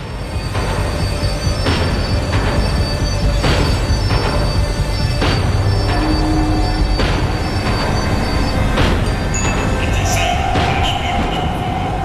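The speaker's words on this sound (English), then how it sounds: "The tram was slowing down, and I'd only just gotten on board." A tram in the video game Max Payne 3 rumbles loudly along the rails as it slows, wheels squealing and clattering over track joints in a steady metallic roar, with no voices.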